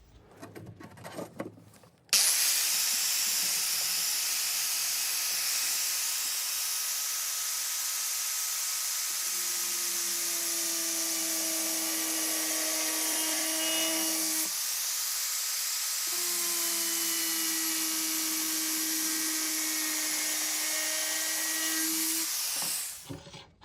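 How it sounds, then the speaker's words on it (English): A high-pitched, loud angle grinder fitted with a slitting disc whines steadily, cutting into steel with a hissing, screeching tone that dips briefly mid-cut before continuing, then winds down. "So if I put a slitting disc in my grinder,"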